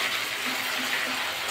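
Water pours steadily into a pan of whole brinjal curry with poppy seed paste on a low gas flame, a continuous close splashing rush with no talk.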